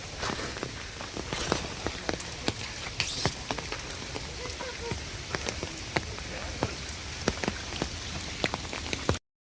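Steady monsoon rain patters on a rocky trek trail near Palasdari, Karjat, with scattered sharp drops and soft footsteps across the stones, an even wash of rainfall with no talk.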